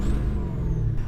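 A Ford 6.0 Powerstroke diesel truck engine, freshly built, gets a brief throttle blip, a low steady rumble close by with a faint rising whine, short and with no talking.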